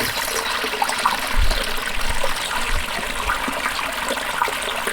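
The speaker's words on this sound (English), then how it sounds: "I never get tired of the sound of this creek." A small creek flows steadily beside a garden, its broadband rush of water continuous and fairly close, with a few low gurgles and splashes rising out of the stream and no voices.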